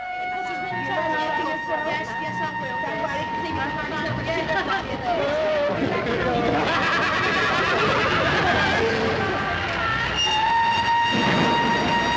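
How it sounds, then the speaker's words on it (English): Trains at London's Waterloo Station railway terminus: rumbling carriages and clatter, with repeated horn or whistle blasts rising above a busy station din. Voices are heard in the background. "A day in the life of Waterloo Station."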